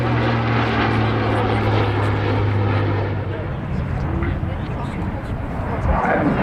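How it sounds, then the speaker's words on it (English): Eurofighter Typhoon jet and a Battle of Britain Memorial Flight Spitfire pass together in formation at a seaside airshow, a loud, continuous engine roar with a steady propeller drone that holds throughout the pass. "a welcome return from the Royal Air Force of this amazing formation, Anarchy 1, the Typhoon, with the Spitfire from the Battle of Britain Memorial Flight"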